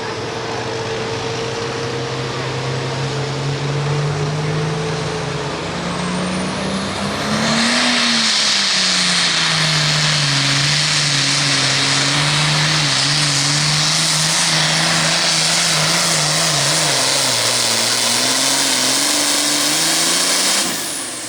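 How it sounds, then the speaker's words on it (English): An International 1066 tractor roars through a 9,300 lb tractor pull run, a loud droning engine note that swells sharply partway through and holds a rising, wavering pitch under heavy load, near and powerful. "Crank it up, International 1066."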